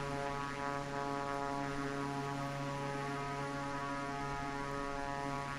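A propeller-driven medevac airplane engine droning steadily in Microsoft Flight Simulator 2024, a constant even hum with strong tonal harmonics that holds unbroken and close throughout, with no voices.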